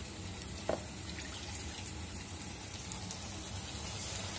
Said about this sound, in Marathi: ह्या मिक्सरच्या भांड्यामध्येच थोडंसं पाणी टाकायचंय